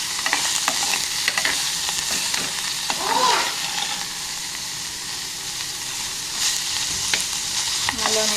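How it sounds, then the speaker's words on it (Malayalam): Onions and green chilies fry in a pan while being stirred, giving a steady, close sizzle with occasional scraping stirs and no talking. "ഉള്ളിയും പച്ചമുളകൊക്കെ ചേർത്ത് നല്ലോണം ഇളക്കി കൊടുക്കാം"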